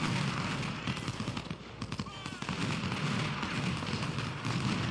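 Musket gunfire in the Ultimate General: Civil War video game, dense crackling volleys of shots popping steadily in the middle distance with someone talking over the battle noise.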